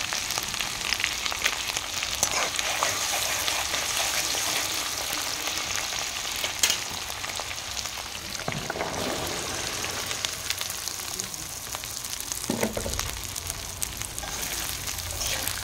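Panch phoron spices and slit green chillies sizzle steadily in hot oil for a French bean achar, a close, constant crackling fry with occasional stirring scrapes.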